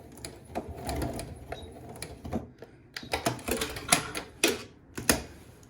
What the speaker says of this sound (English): we're just sewing down to point 2 right here. I'm just going to do a tiny little back stitch.